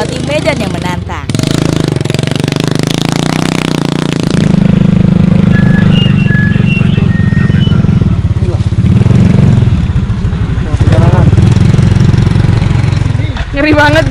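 Motorcycles labor over rough hilly terrain, engines chugging and revving unevenly with rattling mechanical noise, loud and close, while people talk over the din.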